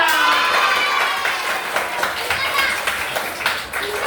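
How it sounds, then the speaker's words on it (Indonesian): A burst of clapping from a group, steady and fairly loud, tapering off after a few seconds with some voices mixed in. "Tepuk tangan buat kita semua"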